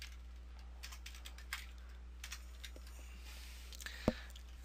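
Light computer keyboard typing, a few scattered faint key taps over a steady low electrical hum, ending with one sharper click.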